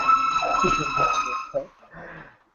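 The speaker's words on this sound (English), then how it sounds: "there's an ambulance here" An ambulance siren wails steadily in the background with strong tonal sweeps, then cuts off, while someone talks over it.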